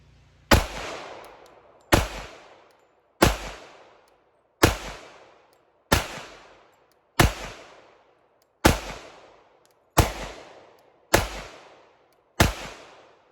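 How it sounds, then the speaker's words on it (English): Ten pistol shots from a Sig P227 and an FN FNX-45, fired outdoors at a steady slow pace of roughly one every 1.3 seconds, each a loud sharp crack followed by a ringing decay. "227 first, we're gonna do 10 rounds, and then we'll do 10 rounds of the FNX."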